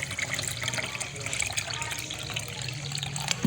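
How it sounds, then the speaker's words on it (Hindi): Water poured into freshly made sherbet while preparing iftar, a steady close splashing stream that runs unbroken for the whole few seconds with no talk over it. "और अब हम इसमें मिला देंगे पानी"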